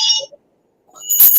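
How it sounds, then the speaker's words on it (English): A bell rings in two short bright dings, the first fading quickly, then silence before a second, louder metallic ring with clattering overtones. "I ring the bell for her."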